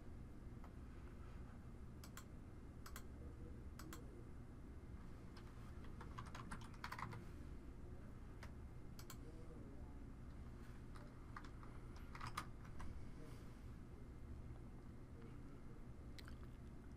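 Faint keyboard typing as a product ID is entered into sales order software, scattered soft key clicks over a steady background hum, with no talk.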